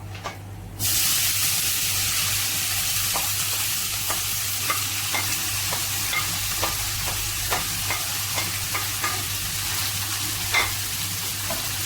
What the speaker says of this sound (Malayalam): കടുക് പൊട്ടി വന്ന് അതിലേക്ക് നമുക്ക് അരിഞ്ഞു വെച്ച കോവയ്ക്ക ചേർത്ത് കൊടുക്കാം